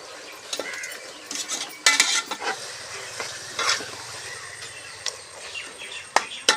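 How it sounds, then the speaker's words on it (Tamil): Tomato and ginger-garlic paste sautéing in a pan for chicken biryani outdoors, with a spoon scraping and clinking against the pan over a soft sizzle, punctuated by a few sharp metallic knocks. "தக்காளி நல்லா வதங்கிடுச்சு"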